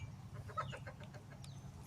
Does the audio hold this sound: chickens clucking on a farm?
yes